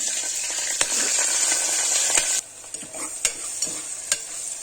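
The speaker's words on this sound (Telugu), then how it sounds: "పచ్చిమిర్చి, ఆనియన్స్ వేసి వేడనివ్వాలి బాగా" Green chilies and onions fry in hot oil for prawn biryani, a bright close sizzle with several sharp stirring clacks against the pan. Partway through the hiss drops quieter.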